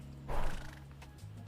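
Horse neighing in the horse-riding video game The Tales of Rein Ravine, a single short whinny rising and fading over a quiet background, with no talk.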